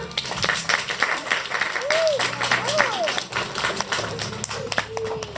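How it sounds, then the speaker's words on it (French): An audience at a children's theatre show about an eco-minded pirate claps in a burst of applause, quite distant and muffled, while performers keep talking over it. "Ah bah bravo, on peut l'applaudir."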